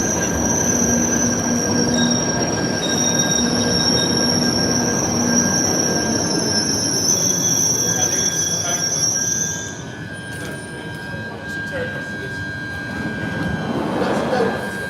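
Loud London Underground Northern Line train at Camden Town station, wheels squealing steadily for about ten seconds with a high-pitched screech, then rumble and clatter as it settles and rolls on.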